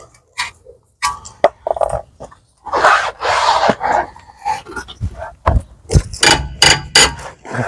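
A hand ratchet works the bolts loose on the front wheel bearing of a BMW E92 3 Series, giving close, sharp bursts of clicking in uneven spurts with short pauses between strokes.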